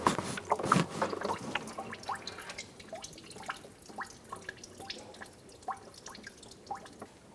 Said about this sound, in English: Remove your hose and drain your fluid.